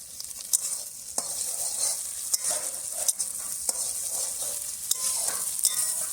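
Tomatoes and onions frying together in a pan while being stirred, a steady quiet sizzle broken by regular sharp taps and scrapes of the spatula against the pan, close up with no voices.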